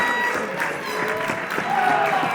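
A pro wrestling crowd cheers and claps as Julian Young rallies them during a referee's count, a steady wash of crowd noise with a commentator talking over it.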